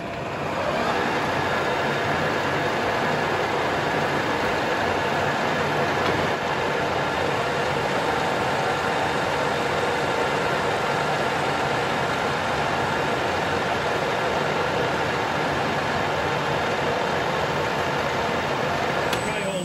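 An old Colchester lathe runs continuously, giving a steady broadband mechanical whir and hum that stays level throughout, like a constant machine drone in a workshop.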